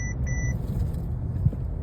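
A 2019 Mercedes E450 Coupe with a turbocharged V6 runs on light throttle, giving a smooth, steady low rumble from inside the car, with a couple of short electronic beeps near the start.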